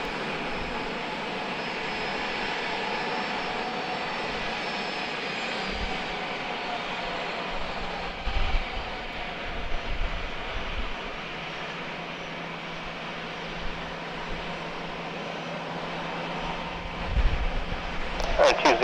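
A Southwest Boeing 737 airliner's engines roar steadily at San Diego Airport, a broad sustained jet drone at moderate distance with faint low rumbles and a brief thump near the end.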